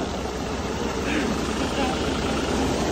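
A John Deere 5405 4x4 tractor engine runs nearby in a steady, unbroken diesel drone that holds at an even loudness for the whole stretch.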